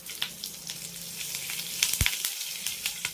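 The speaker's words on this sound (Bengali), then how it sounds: "এই ফোড়নগুলোকে আমি একটু ভালো করে ভেজে নেব" Steady sizzling of spices and curry leaves frying in hot oil for a tempering, with crackles and pops scattered throughout and one sharper pop near the middle.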